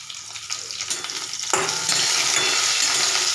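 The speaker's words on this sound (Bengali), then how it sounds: "পেঁয়াজটা ভাজা হয়ে এসেছে" Sliced onion, green chili, mustard seeds and black cumin fry in hot oil. A quiet crackle bursts into a loud, steady, close sizzle about halfway through and continues alone.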